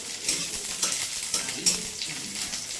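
Onions fry in oil in a wok that was still wet, giving a steady close hiss with sharp spitting crackles bursting out every half second or so; no one speaks.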